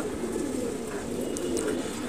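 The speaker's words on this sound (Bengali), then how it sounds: "আজকে সবগুলো কবুতরের পাক ছেড়ে দিব" Pigeons cooing at a loft where the birds are being let out, a steady low murmur of soft coos running throughout with faint higher calls over it and no talk.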